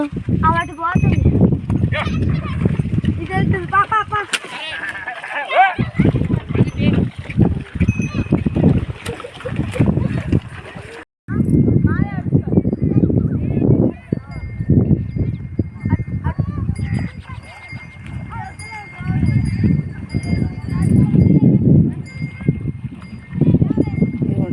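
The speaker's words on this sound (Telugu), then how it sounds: "నీళ్ళ నుంచి ఎడ్ల బండ్లు కూడా వచ్చేస్తున్నాయి." Bullock carts and cattle wade through water in a village, with continuous loud splashing and churning under near, ongoing talk, and faint animal and bell-like sounds mixed in.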